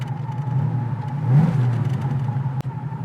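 A 1969 Mustang restomod pulls away from a standstill, its engine rising in pitch as it accelerates, a steady mid-range drone close by with no talking.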